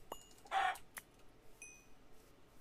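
A single short, squawky Minecraft chicken cluck bursts out once amid quiet game sounds, with a few faint clicks and chirps around it.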